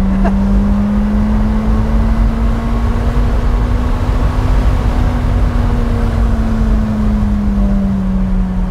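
A 2020 McLaren 620R sports car on a street pulls a launch-control start: a loud, close, steady engine drone that holds a sustained tone, with a faint lift and fall in pitch across the full stretch and no voices.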